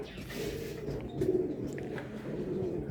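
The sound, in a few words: racing pigeon arriving at the loft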